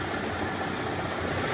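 A 2000-model off-road vehicle's engine idles steadily at close range, a continuous low rumble with faint knocking texture and no talk over it.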